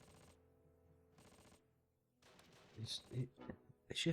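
Machine gun firing in the Close Combat video game, a few bursts of rapid shots in the latter half, mixed with talk.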